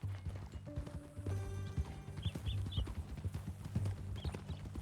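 Horse hooves clip-clop at a steady walking pace in Red Dead Redemption 2, close and distinct, with a few faint bird chirps and ambient tones in the background.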